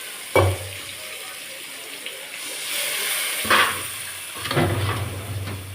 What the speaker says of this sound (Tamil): அதுக்கப்புறமா தண்ணி ஊற்றிடுவோம்.